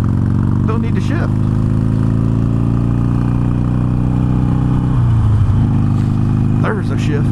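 A Harley-Davidson Iron 883 motorcycle riding steadily at speed, with a constant loud engine drone that dips briefly during a gear change before pulling again, with wind rumble throughout.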